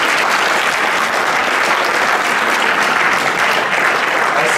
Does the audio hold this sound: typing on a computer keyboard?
no